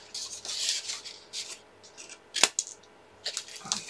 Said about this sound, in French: Tiens, mes ciseaux sont ici.